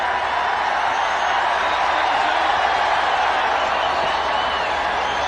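A large cricket crowd in a stadium during an India versus Australia match keeps up a steady, dense roar of cheering and noise throughout, with distant applause mixed in.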